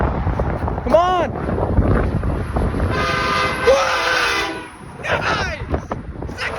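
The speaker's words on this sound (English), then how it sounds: "Come on, there goes train once again! My train!" Train horns blare as a train passes, several loud sustained blasts cutting through rumbling rail noise, while excited voices shout over it.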